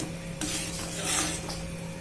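Shavige payasa with cardamom powder is stirred in a pot, making a soft, steady swishing and scraping that swells briefly midway and stays close throughout.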